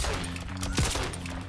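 RoboCop's anti-air gunshot in Mortal Kombat 11 cracks once mid-fight, a short burst within dense, noisy game sound effects.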